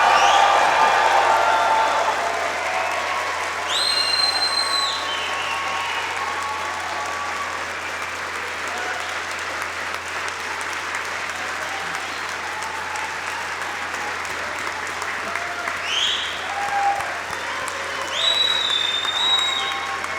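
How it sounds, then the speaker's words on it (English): A large graduation ceremony crowd at the University of Manchester gives a big, sustained round of applause, loud and dense at first and then steady throughout, with some cheers and whoops rising above the clapping. "Can you give this amazing crop of graduates a really big round of applause?"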